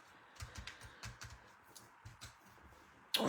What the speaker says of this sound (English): Sorry if you hear a knocking in the background.